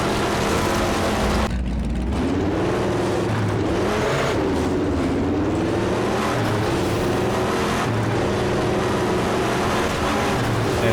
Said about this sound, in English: we've got some racing trucks with a couple of rally cars